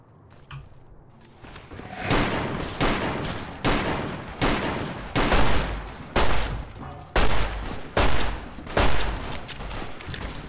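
Repeated gunfire from Fallout New Vegas, about nine loud, evenly spaced shots with short echoing tails, each beginning sharply and fading before the next, with no talking.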